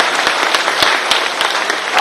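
A crowd at a tech conclave in Bhopal applauds continuously, a dense, steady wash of clapping with a few louder claps standing out near the front.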